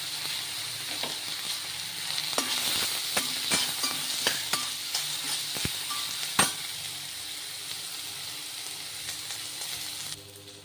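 Dried turkey berries, sundakkai vathal, frying in a pan make a steady close sizzle with scattered crackles and pops, the hiss easing off toward the end; no talking.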